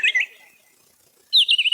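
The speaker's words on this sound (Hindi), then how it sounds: "चिड़ियों की चहचहाट भी सुनने को मिल रही है।" Birds chirping in quick, high, twittering bursts, one at the start and a louder one near the end with a quiet pause between, heard alone without talk.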